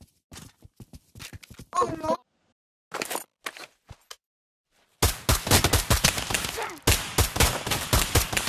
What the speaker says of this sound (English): Double 50 cal.